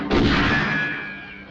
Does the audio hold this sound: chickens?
no